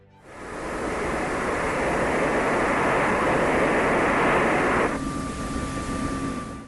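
A J79-powered F-4E Phantom jet roars loudly and steadily with broad, rushing noise that cuts off sharply near the end, leaving a fainter hum with a thin whine.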